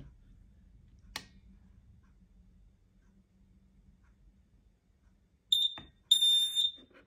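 Interlinked battery smoke alarms chirp in short, piercing electronic beeps near the end, after near silence broken by one faint click.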